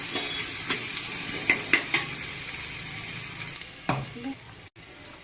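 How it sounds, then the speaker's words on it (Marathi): Mutton simmers and sizzles quietly in a pot for biryani while a spoon stirs it, giving soft scrapes and a few brief metallic clinks over a steady frying hiss. "आता याला आपल्याला मस्त असं हलवून घ्यायचं."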